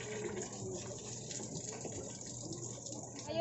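Water runs steadily from a tap as something is rinsed for a pancit dish in a home kitchen, a continuous close gushing splash at moderate volume with faint background noise and no clear talking.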